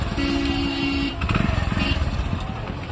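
A motorcycle engine runs close by, a steady drone at first that turns into a rough, pulsing throb after about a second, with faint voices in the background.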